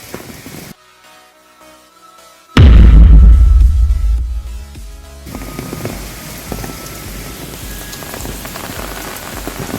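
Heavy rain pours onto surfaces around an umbrella, a loud dense hiss that bursts in suddenly after a quiet stretch, then settles into a steadier patter with scattered drops.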